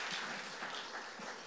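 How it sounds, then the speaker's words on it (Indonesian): Congregation at a church service clapping in praise to God, a brief stretch of broad, moderately distant applause without talk. "Kita berikan tepuk tangan sekali lagi bagi Tuhan kita"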